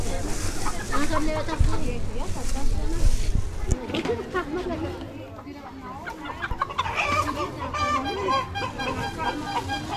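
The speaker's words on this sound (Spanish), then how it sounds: "Es el gallo." A rooster clucks and calls amid the bustle of a Friday outdoor market in Santiago Juxtlahuaca, its cries mixed with nearby people talking and general crowd noise throughout.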